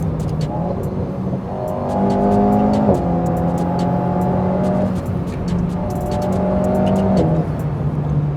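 An Alpine A110 sports car engine revs up in surges, pulling hard with rising tone, then easing and climbing again; loud and close, with no talking.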